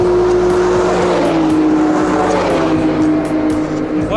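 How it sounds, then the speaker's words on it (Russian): Off-road buggies roaring away at speed near a lakeside village in Raifa, Tatarstan, with a loud, steady engine drone held close throughout and no let-up. "Баги погнали."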